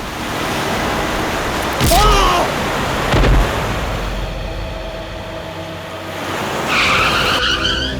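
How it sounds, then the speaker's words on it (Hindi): A car skids as it brakes suddenly in a TV crime drama scene. Two sharp tyre screeches, one early and one near the end, rise loudly over steady road and ambient noise. "ये अचानक मेरी गाड़ी के सामने आ गए, मुझे गाड़ी रोकने का टाइम नहीं मिला।"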